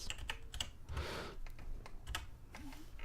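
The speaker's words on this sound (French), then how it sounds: "Donc on tape Eclipse" A computer keyboard is typed on in quick, close clicks, with a short flurry of keystrokes and a few isolated taps, as a command is entered to set up Eclipse for Minecraft Forge 1.12 modding.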